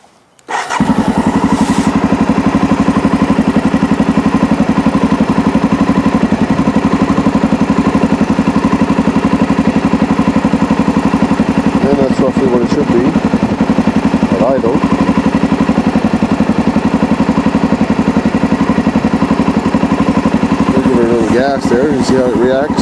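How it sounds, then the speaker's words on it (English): A Honda XR650L motorcycle with an FCR-MX 41mm carburetor kicks into life and settles into a loud, steady idle, with a few quick revs and brief voices over the running engine. "So we'll go ahead and start the engine."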